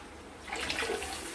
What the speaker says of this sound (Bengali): এবার আর একটু সামান্য জল দিয়ে দেবো।